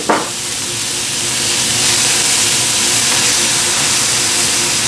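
Half a medium onion, diced, hits a hot pan for a broccoli and cheese casserole, giving a loud, steady sizzle and hiss that swells slightly after a short initial burst and continues without talk.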